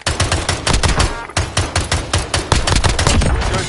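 Rapid automatic gunfire in the Warzone video game, dense bursts of close, loud shots rattling continuously with brief gaps, alone without talk.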